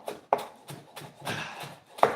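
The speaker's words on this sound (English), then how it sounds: "Let me just finish chopping my cilantro" A knife chopping fresh cilantro on a cutting board, with irregular close taps that speed up and slow down, some louder strikes standing out from softer cuts.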